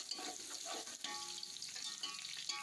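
Steady, close sizzling of chopped garlic frying with onions and cumin in a hot pan for biryani, with occasional stirring scrapes and crackles throughout, no talking.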